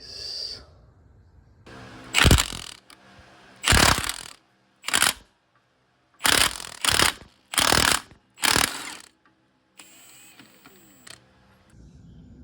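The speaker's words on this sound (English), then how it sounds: "let's go ahead and get this factory bolt out" Bursts of ratcheting clicks from a hand ratchet backing the factory bolt out of a C6 Corvette harmonic balancer, seven or eight short loud runs separated by pauses, close up with no talking.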